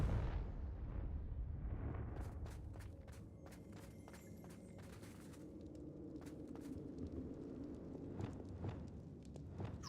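A Confringo fire spell is cast in Hogwarts Legacy on Nintendo Switch as a low rumbling blast at the start. Scattered sharp clicks and thuds from the game follow at a modest level.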